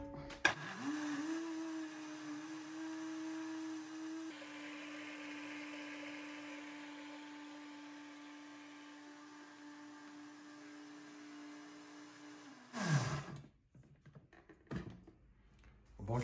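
A blender mixing carrot cake batter whirs steadily at close range for about twelve seconds, then cuts off, followed by a few clunks and handling noises.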